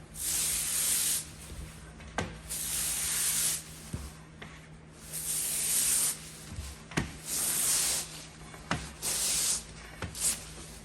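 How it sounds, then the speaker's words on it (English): A plastic liner is pulled off a printed mesh vinyl banner in several long hissing, tearing sweeps, each separated by brief pauses, with occasional sharp crackles, close and alone. "When we remove the liner, usually it comes off in one clean sweep."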